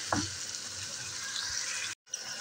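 Steady, close sizzling and crackling of potatoes and whole spices frying in hot oil, with a brief clatter near the start and a short gap of silence near the end.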